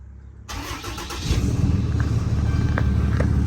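A truck engine cranks over and catches, then settles into a loud, steady rumbling idle close by.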